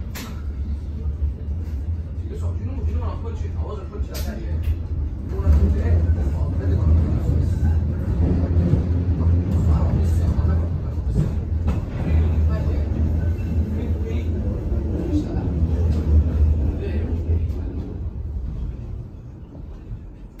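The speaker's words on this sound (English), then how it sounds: "This is the tram train service to Parkgate." A steady low rumble of a CityLink Stagecoach tram-train in motion leaving Tinsley in Sheffield, growing slightly louder midway, with a voice talking over it.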